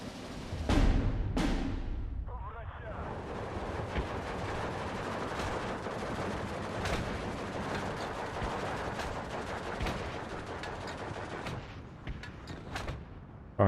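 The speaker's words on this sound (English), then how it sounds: "Gonna get all the mortars to hit that 150 for us." Mortar fire in Steel Division 2, a WW2 strategy game: two sharp launches open, then a sustained rumble of distant barrages and scattered cracks of gunfire, moderately loud.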